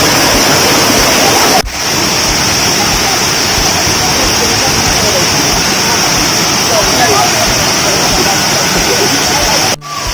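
Roaring waterfall about ten meters high on Nias island, with people swimming below, heard as a loud, constant broadband rush that fills the whole clip with no talk over it.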